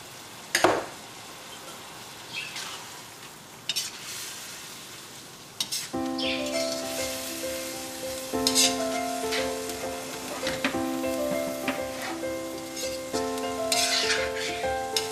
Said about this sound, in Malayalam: ഇതിൻ്റെ ഗ്രേവി നന്നായിട്ട് തിളച്ചിട്ടുണ്ട്